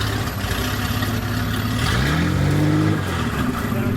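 A 1926 Hudson car engine started by hand crank catches and runs, a steady low rumble that briefly revs up and settles into a close, even idle with no talking.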